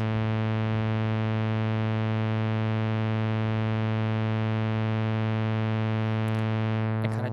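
A synthesizer holds one sustained note shaped by a single filter envelope and no LFO, a steady, buzzy, harmonically rich tone that stays unchanged and loud throughout, with a brief glitchy sweep near the end.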